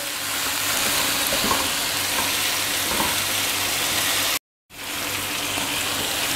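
Mutton with aloo bukhara (dried plums) frying in a pan for a stew, a loud continuous close sizzle with faint stirring scrapes, briefly cut off near the end before resuming.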